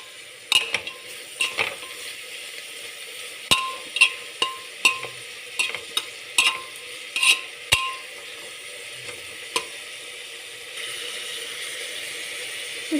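Carrots and potatoes stir-fry in a pan, a quiet sizzle beneath a run of sharp metal clinks and scrapes from the spoon, irregular but frequent, then easing off toward the end.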